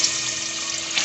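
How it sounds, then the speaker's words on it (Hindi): Half a cup of water pours into a pan of cooking potatoes for a capsicum and potato curry, a steady, close, splashing gush with no talking. "उसके साथ साथ ही मैं इसमें 1/2 कप पानी ऐड करूँगी"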